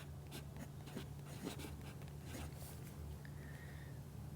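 A fine-nib fountain pen writes on paper with a soft, continuous scratchy stroke sound, close and quiet, with no talk.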